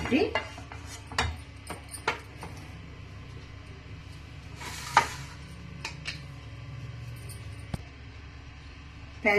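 A pan clatters back onto the stove for a sesame and peanut chutney, with scattered metallic clinks and knocks, a brief hiss near the middle, and oil poured in, fairly faint in a quiet kitchen.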